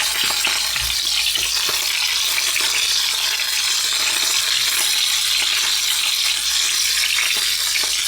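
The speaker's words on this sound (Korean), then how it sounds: "자, 모든 면이 노릇노릇하게 잘 구워질 수 있도록 작업을 해줄게요" Pork belly for Japanese kakuni sears in a hot pan with a loud, steady sizzle and occasional spatters, uninterrupted throughout.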